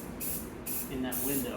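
Spray paint hisses in three bursts onto a Surfer pinball backglass, blasting off black gunk, a bright close airy spray with brief gaps between, under quiet talk.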